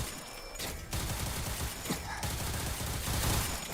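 Gunfire in the video game Limbus Company, a dense burst of rapid shots and impacts layered with game effects, loud and continuous across the moment.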